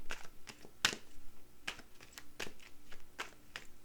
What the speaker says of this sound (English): I'm going to do a little more shuffling.